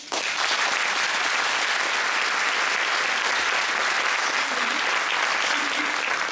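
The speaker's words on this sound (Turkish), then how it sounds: "Onun için arkadaşlara bir alkış." Steady applause from an audience at a concert, honoring the orchestra members, fills the whole stretch at an even, sustained density with no talk over it.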